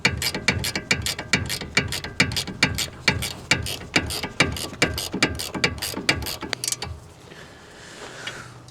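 A ratchet clicks in a fast, steady series of close, crisp strokes while tightening a ball joint on a BMW 1 Series suspension arm, then stops, leaving quiet workshop background.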